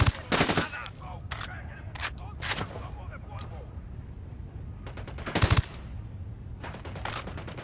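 Bursts of automatic rifle fire from the video game Ghost Recon Wildlands crack out in several loud, sharp volleys spaced through the stretch, the last cluster strongest, with quieter gaps between.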